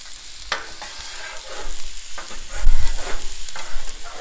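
Cooked ground beef sizzles in a warm cast iron pan set on a Blackstone griddle, a steady frying hiss broken by scraping stir strokes that swell louder toward the end.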